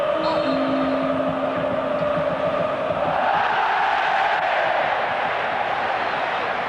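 Football stadium crowd at an Italian Serie A match roars and cheers, a broad sustained wash of noise rising toward the middle, with a commentator's voice faintly over it.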